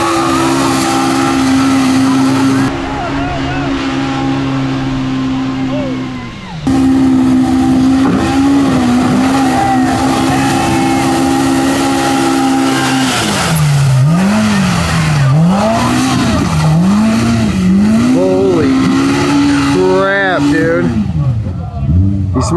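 Off-road car on a crash derby bounty course, engine revving loudly in long sweeping pitch swings, with tire squeal and skidding, close and continuous, under a brief dip where the engine cuts and picks back up, voices talking throughout.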